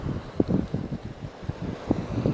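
Sea wind buffets the microphone on the Batumi shoreline, a continuous low, gusty rumble with irregular thumps and surges, loud and close, with faint surf beneath and no speech.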